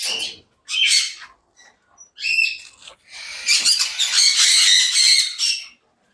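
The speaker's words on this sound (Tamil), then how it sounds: "மெயினாக ஸ்மால் பேர்ட்ஸ் மட்டும் தான் வச்சுருக்கோங்க. கன்யூஸு, காக்டைல்ஸு அது மட்டும் தான் இங்கே இருக்குது." Budgies and cockatiels squawk and chirp inside an aviary of small birds, in loud close bursts that build into a dense, overlapping chorus, with no speech.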